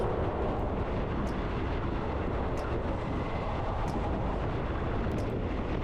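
A continuous loud rumbling roar of a passing Thai passenger express train, Bangkok to Ubon Ratchathani, steady and close, with no talking.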